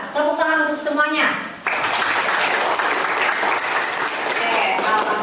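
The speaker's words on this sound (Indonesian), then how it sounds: "Tepuk tangan untuk semuanya." Applause for a group of students in a classroom during a teacher's performance test session, rising abruptly after a brief stretch of speech and holding as dense, steady clapping to the end.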